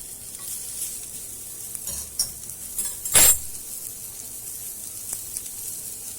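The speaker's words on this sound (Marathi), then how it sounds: "एक कांदा चांगला बारीक चिरून घेतलेला आहे मी तो भाजून घेऊ आपण" Finely chopped onion frying in a pan for a wild-greens dumpling dish, a steady close sizzle with a few clinks of a utensil and one brief louder scrape partway through.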